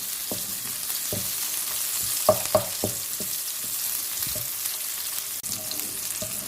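Onions frying gently in a pan for a chicken vegetable stir fry, a steady soft sizzle with intermittent scraping and clinks of a spoon stirring, close and alone without talk.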